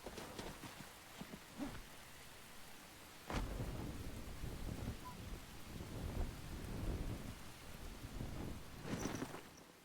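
Steady rain hisses in the game Enshrouded with rumbling thunder rolling through, one sharp crack marking a louder surge midway, and the downpour continuing thick and close until the end.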